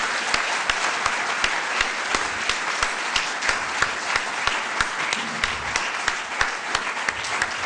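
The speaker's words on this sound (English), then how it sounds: "Welcome him with a very big round of applause." A large audience gives a long, sustained round of clapping to welcome a speaker at a talk on Vedic wisdom, with a few sharper individual claps standing out from the even roar.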